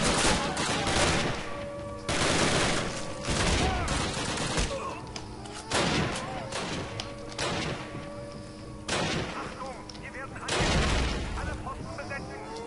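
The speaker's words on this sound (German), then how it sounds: "Wer schießt denn da wieder snipermäßig?" Gunfire in the video game Call of Duty, repeated heavy shots and bursts in a steady rhythm with booming thuds, loud and close, with people talking over it.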